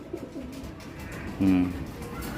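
Racing pigeons coo softly in a loft, one brief throaty coo rising clearly above a low background murmur.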